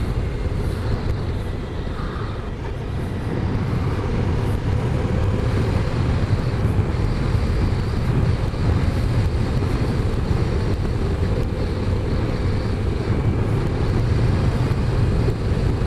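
Continuous rumbling road and wind noise of a motorcycle ride, a steady engine drone mixed with buffeting air, no voices.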